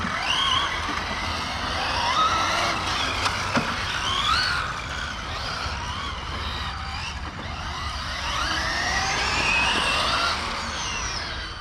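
An electric FG RC race truck with a 530KV motor and Flier Opto 300 speed controller on a 16S battery drives nearby, its motor giving a continuous high whine that rises and falls as it accelerates, with no voices.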